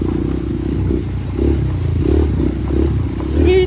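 Trail motorcycles ride a dusty downhill dirt trail toward a river crossing, their engines giving a steady, close rumbling drone that swells and eases in waves and rises near the end.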